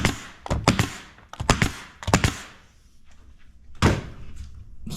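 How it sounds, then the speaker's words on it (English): Staples being fired into a door panel over plywood, with several sharp, close clacks in quick clusters followed by a quieter gap and one more strike. "staple throughout there, and that way it holds it really nice and tight to the plywood"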